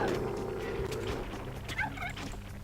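A turkey in the video game CastleStorm gobbles in a quick warbling burst over steady game background noise, fairly clear and moderately loud, with no talk over it.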